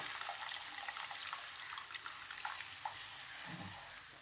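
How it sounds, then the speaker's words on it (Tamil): A soft, steady splash of tamarind water being poured into a green moong dal gravy in a pan, faint and continuous, with no voices. "இப்போ வந்து இந்த புளி தண்ணியை அதில் ஊற்றுறேன்"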